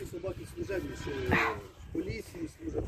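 A dog barks in a quick series of yelps and woofs close by on a village street, interleaved with people talking.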